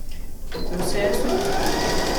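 Domestic sewing machine stitching fabric for a mitred-corner floor towel, a steady close mechanical whir that starts after a brief pause and runs continuously to the end.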